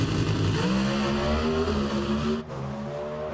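A drag racing car screams past at full throttle, its engine pitch climbing steadily before cutting off abruptly near the end, loud and close.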